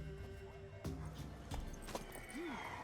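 A mare in The Witcher III, heard as steady clip-clop of hooves with a brief whinny near the end, fairly quiet and mixed with faint voices and game ambience.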